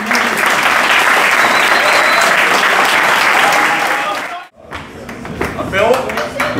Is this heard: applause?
yes